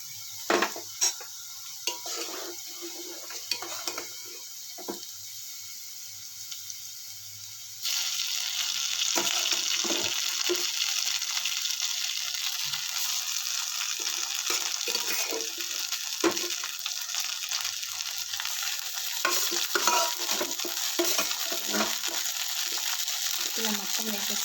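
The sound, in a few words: roasted vermicelli added to pan and stirred for upma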